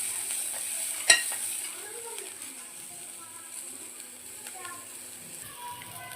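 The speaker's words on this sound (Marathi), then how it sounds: "थोडंसं तेल टाकून मिरची आपली भाजून घ्यायची आहे." Green chillies roast in a little oil in a pan with a soft sizzle and occasional stirring scrapes, one sharp knock early on, and faint voices in the background.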